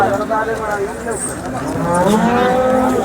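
Cows moo loudly and close by at the Sangola cattle market, amid a busy outdoor crowd with people talking throughout.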